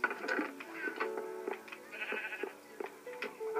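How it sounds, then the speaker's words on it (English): A sheep in a video game bleats several times in quick succession, the wavering cries close and fairly loud against a quiet background. "His pet, Jeb, the rainbow sheep"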